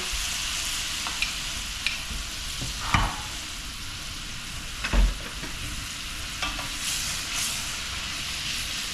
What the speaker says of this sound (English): And then deglaze that with a little bit of white wine.